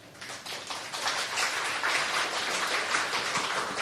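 Audience applause at a talk on the future of cannabis in Thailand, dense clapping that swells in within the first second and then holds steady and fairly loud, with no voices over it.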